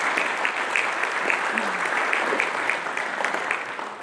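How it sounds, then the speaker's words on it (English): Applause from the audience at a police change of command ceremony fills the room: a steady patter of clapping hands from a modest crowd, sustained evenly throughout without cheering. "thank you for the smattering of applause"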